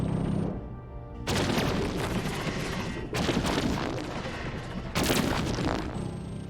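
Spaceship weapons firing during a space battle in the strategy game Endless Space 2, loud sustained barrages in three long waves with dense booming and crackling blasts.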